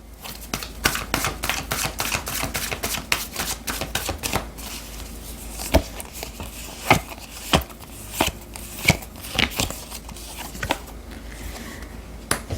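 Tarot cards are shuffled up close in a quick patter of soft flicks and slaps, with sharper snaps standing out in the second half, and no voices.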